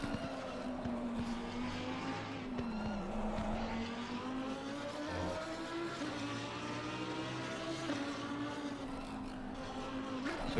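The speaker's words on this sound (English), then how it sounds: "missing that turn as well as Rafa Star, so that will end up with some damage for him" A GT3 race car in the Assetto Corsa Competizione video game at Bathurst misses a turn. The engine drones steadily at close range throughout, with faint tire or skid noise mixed in, and no one speaks.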